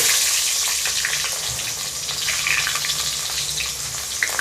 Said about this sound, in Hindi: और 1 पंच ये अजवाइन, एक प्याज स्लाइस किया हुआ डाल देंगे